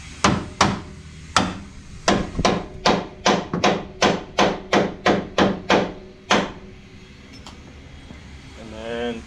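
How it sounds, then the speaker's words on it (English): A hammer smacks a uniball into place on a Total Chaos upper control arm, a brisk series of about fifteen sharp metallic blows, close and loud, with a pause partway through, followed by quieter shop noise. "give her a couple little smacks"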